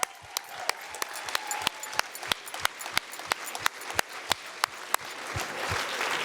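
A gala audience gives a round of applause, with sparse, distinct individual claps ringing out in a steady rhythm over a soft crowd murmur, moderately close and fairly quiet.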